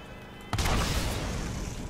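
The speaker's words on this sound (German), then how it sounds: "Das war ein explodierender Skag." An exploding skag blows up in the video game Borderlands, a sudden loud boom that cuts in after a quiet moment and rolls into a noisy, sustained burst of blast debris.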